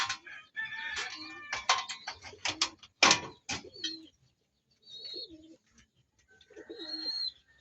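Cooing and calls from a racing pigeon and other birds fill a quiet spot, loud at first, then fading into scattered softer calls with brief pauses.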